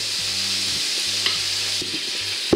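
Celery and leek cooking in a pan for a vegan pot pie, a bright steady sizzle with a few stirring scrapes and taps, close and fairly loud, no talking.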